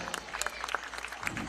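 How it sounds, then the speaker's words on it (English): Audience clapping at a youth 10u baseball state championship game, a fairly faint, scattered patter of applause from a crowd, with bright individual claps standing out. "Let's give him a nice round of applause."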